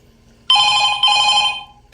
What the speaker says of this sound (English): the phone, the ringing is so loud